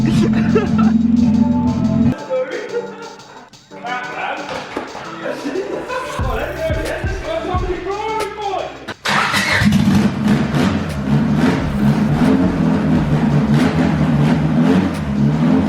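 A Honda Civic with a swapped engine cranks, catches and starts up, then settles into a loud, steady idle. Brief voices mix in during the start.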